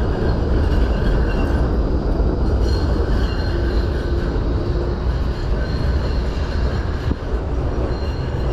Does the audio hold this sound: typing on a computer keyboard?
no